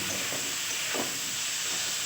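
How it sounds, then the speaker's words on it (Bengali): Cubed potatoes frying in oil with ginger, cumin, chilli and four cardamom pods; an even, continuous sizzling hiss throughout, close and moderately loud, with no talking. "এই মশলাটা এই তেলটার সাথে এবং আলু একসাথে ভাজা হয়ে যাবে"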